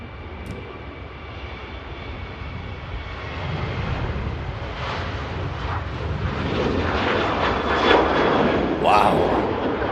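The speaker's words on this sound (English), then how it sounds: "Long rotation there on the Ryanair 737" Ryanair Boeing 737 taking off at Manchester Airport, a broad jet engine roar building steadily toward its loudest point near the end, heard from a distance over continuous background noise.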